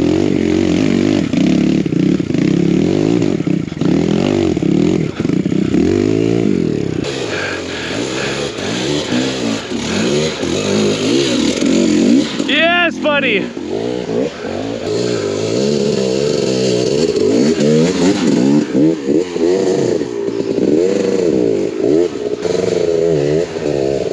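A BBR KLX170RF dirt bike rides through snow, its engine revving up and down close by with rising and falling whines, clattering and scraping, and a sharp high rev in the middle.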